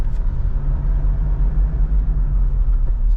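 Mitsubishi Montero GLX with a manual transmission, heard from inside the cabin as it shifts into second gear, gives a steady low engine rumble and road drone, with no talk.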